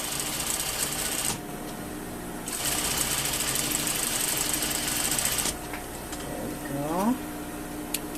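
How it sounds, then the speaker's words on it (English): A sewing machine understitches the lining of a welt pocket with a rapid, steady mechanical whir heard up close. The machine runs in bursts separated by brief pauses, and a voice speaks during the quieter moments. "You could go press it down or understitch on the lining to keep it flat."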